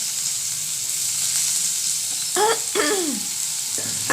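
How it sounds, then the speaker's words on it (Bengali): Chopped onion dropped into medium oil already sizzling with whole cumin seeds, a steady hiss of frying joined by a couple of brief sharp crackles and stirring scrapes near the end, close and fairly loud. "আর এখানে পেঁয়াজ কুচি দিয়ে দেবো"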